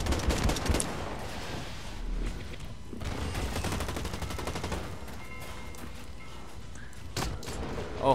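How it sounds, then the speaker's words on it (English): Automatic gunfire from the online shooter Blacklight Retribution, rapid bursts rattling continuously through the whole stretch with sharp louder shots near the end. "Oh fuck, I'm getting shot in the back."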